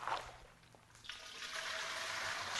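Fresh wort pouring from a cut bag corner into a fermenter and splashing to aerate it. A steady rushing gush builds after a brief pause and grows louder near the end.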